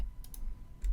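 Someone working in Photoshop presses the Alt key and clicks the mouse, giving two quick, close, faint clicks followed by a third click a moment later, in an otherwise quiet room.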